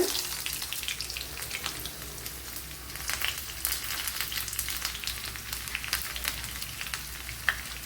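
Chopped onions sizzle steadily in hot oil in a pan while a Kerala-style ozhichu curry is cooked, a dense continuous crackle with scattered sharper pops throughout, close and fairly loud, with no voices.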